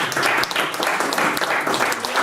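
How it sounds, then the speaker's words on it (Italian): An audience at an evening election event for a regional governor candidate applauds steadily, a dense wash of many hands clapping at moderate distance, sustained and even throughout. "lo scelto pubblico dà un applauso meritatissimo"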